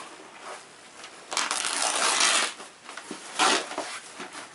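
A package of dolls being opened close by, with crinkly tearing and rustling in two louder bursts among quieter handling noises.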